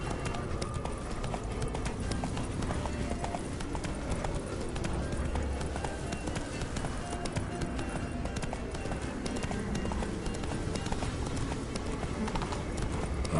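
Hooves clip-clop in a steady fast gallop from a horse in The Witcher 3, running continuously at close range under a dense bed of game music and ambience.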